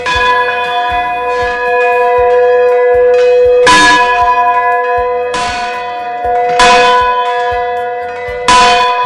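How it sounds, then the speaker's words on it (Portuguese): A seminary bell rings out loud and clear in a series of strong, evenly spaced strikes, each leaving a long, humming ring that overlaps the next, with no voices. "Todos os dias, de segunda a sexta, toca o sino e a gente inicia os trabalhos"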